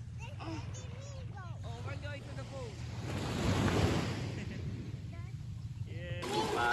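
Ocean surf rushes steadily against the shore at Infanta, swelling louder midway, while people talk and laugh nearby over the wash of the waves.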